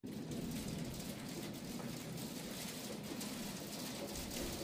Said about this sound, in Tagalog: Umuulan ngayon dito guys.